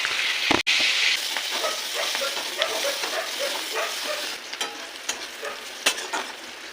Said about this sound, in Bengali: তেল গরম হয়েছে, তেলের উপর মাছ ফেলে দিচ্ছি।